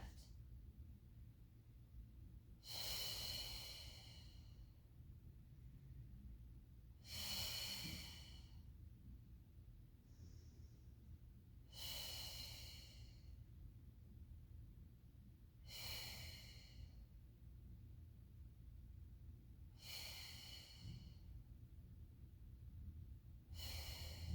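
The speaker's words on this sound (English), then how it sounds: "we inhale to lower and exhale to lift" Slow, audible breaths during a Pilates mat exercise class, with about six breathy exhales spaced roughly four to five seconds apart, fairly quiet over a low background hum.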